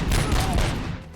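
Gunfire in the video game RoboCop: Rogue City, a dense burst of rapid shots filling the whole brief moment, loud and close, with a faint voice underneath.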